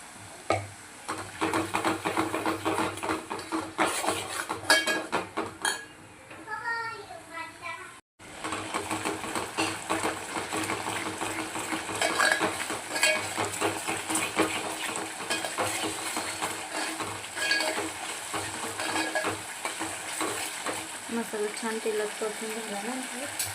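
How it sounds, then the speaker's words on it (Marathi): Ground masala is stirred into chicken for a village-style dry chicken dish, sizzling steadily in a pan with repeated scraping and clinking of a spoon against metal, close up, while someone talks over parts of it. "मसाला टाकल्यानंतर याला छानपैकी आपण मिक्स करून घेऊया"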